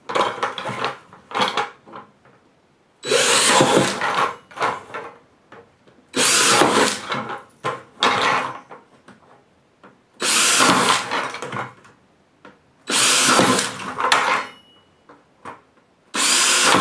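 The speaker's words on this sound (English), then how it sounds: "take the drill" A power drill bores into a plastic 5-gallon bucket in several loud bursts of a few seconds each, separated by short pauses with faint handling clatter.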